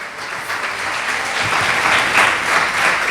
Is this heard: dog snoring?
no